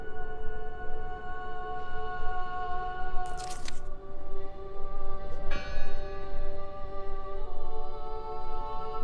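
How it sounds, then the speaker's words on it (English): A church bell tolls in the video game Draugen, set in 1920s Norway, its long sustained tones ringing and overlapping across the scene, with a couple of sharp noisy bursts cutting in midway. "Listen! The bell!"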